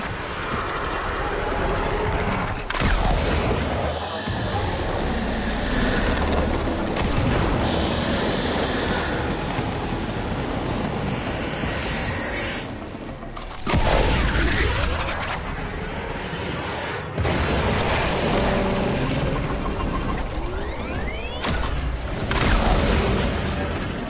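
A video-game explosion with falling debris: a dense, roaring wash of rumble and clatter lasting a long while, with several heavier thumps and bursts scattered through, loud and continuous, no talk.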